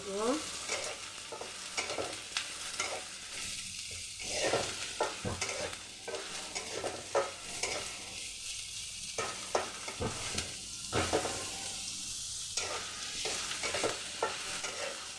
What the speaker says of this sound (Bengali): পেঁয়াজটা যখন এরকম একটু ভাজা ভাজা হয়ে আসছে